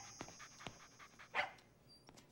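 Cartoon dog panting in quick, soft breathy puffs with a brief whimpering note, faint and close, alongside a thin high electronic tone.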